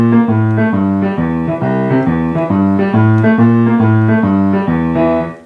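Solo piano plays a rolling boogie-woogie bass line, the left hand rocking between octaves in a steady, bouncy rhythm.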